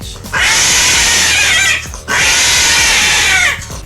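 Cats yowling and screeching in a fight, two long loud strained caterwauls with a brief break between them, close and harsh.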